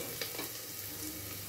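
Bottle gourd pieces hitting hot oil with fried ginger and garlic, a steady close sizzle and crackle throughout with faint stirring taps.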